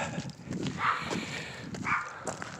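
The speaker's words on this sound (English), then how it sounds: "Dog barking." A dog barks outdoors during a walk, two or three separate barks at moderate distance with faint ambient noise between them.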